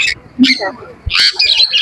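Caged birds squawk and chirp loudly at a busy bird market in Naihati, Kolkata, with sharp harsh calls bursting in overlapping clusters close by and a voice briefly heard among them.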